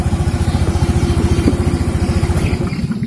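A Honda Beat scooter engine idles steadily up close with its pulley (CVT) cover removed, a continuous low, even chugging pulse with no harsh knocking, running alone for about three seconds.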